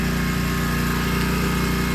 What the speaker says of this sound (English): The lawnmower coughed its lungs out here when I first went to start it and then stopped